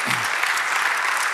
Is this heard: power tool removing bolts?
no